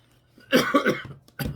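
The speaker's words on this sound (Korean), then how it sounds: "기침을 계속해서 죄송합니다." Several close, harsh coughs from a man giving a Bible lecture, in two bursts with a short pause between them.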